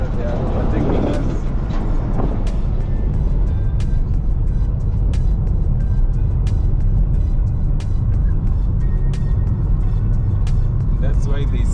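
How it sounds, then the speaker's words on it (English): Steady, loud road rumble from inside a vehicle on the Mau Summit to Nakuru road in Kenya as a faster vehicle overtakes, the drone continuous throughout with voices talking over it. "Someone who is very fast wants to reach very fast, and they are overtaking us."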